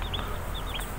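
Hen clucking among chicks on an Indonesian small farm with a steady, dense backdrop of poultry calls and high chirps over constant low noise.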